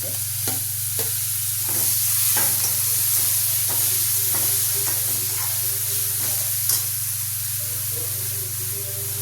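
Onion and tomato sautéing in a pan for a Marathi tomato and moong dal dish: a steady, close sizzle with regular spoon scrapes and taps every half second or so, over a low constant hum.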